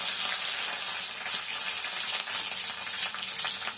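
Asafoetida fries in hot oil in a home kitchen, a loud continuous bright sizzle and crackle with a few small stirring knocks, close and steady with no voices.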